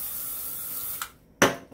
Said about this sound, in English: So I'm going to just spray it with my hairspray.